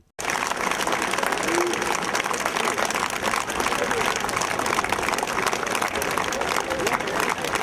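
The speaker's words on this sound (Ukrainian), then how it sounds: "Із квітами та оплесками їх зустрічали рідні, друзі та колеги" Relatives, friends and colleagues applaud a group of over 20 SBU security service officers returning to Ivano-Frankivsk from the ATO zone, a dense, steady wash of clapping from a crowd that runs throughout, with voices mixed in.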